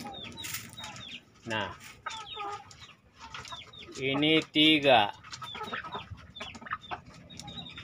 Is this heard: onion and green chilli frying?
no